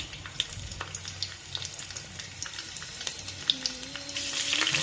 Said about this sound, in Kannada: ಜೀರಿಗೆ ಹಾಕ್ಕೊಂಡು ಚಟಪಟ ಅಂತ ಸಿಡಿಯೋ ಟೈಮಲ್ಲಿ ನಾವು ಈಗ ಗಾರ್ಲಿಕ್ ಹಾಕ್ಕೋಬೇಕು